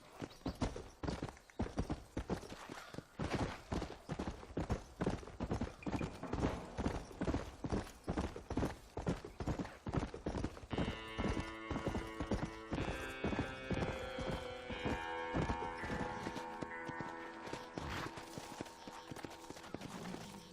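A horse's hooves clop steadily across stony ground in Red Dead Redemption, a fast, even gallop rhythm running the whole time, with a sustained musical tone rising in over the second half.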